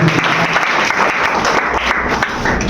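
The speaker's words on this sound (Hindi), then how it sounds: "एक बार जोरदार ताली हो जाए इनके लिए।" An audience at an Urdu poetry gathering claps loudly and continuously, a dense close-up applause that holds steady for the whole stretch.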